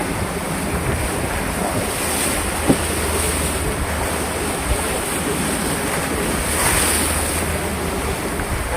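A China Coast Guard water cannon sprays water at sea, a loud, steady roaring rush of water mixed with heavy wind buffeting on the microphone.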